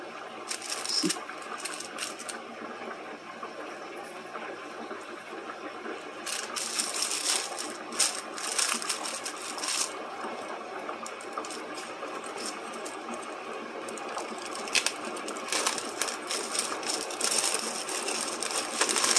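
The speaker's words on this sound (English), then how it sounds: "That noise in the background is the deep fryer for chicken wings" A deep fryer cooking chicken wings: a steady, dense sizzling hiss with crackling bursts that swell and fade, continuous throughout with no voices.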